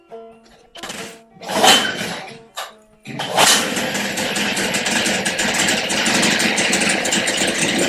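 A 1973 Evinrude 9.9 hp outboard motor with a freshly cleaned carburetor cranks in a few short bursts, then catches and settles into a steady, loud running drone.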